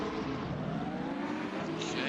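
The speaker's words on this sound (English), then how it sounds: "The lights are up. The revs are coming up. Here we go." A field of GT3 race cars revs and roars together at a race start in a sim racing game, a dense, loud engine wash with an engine note rising toward the end.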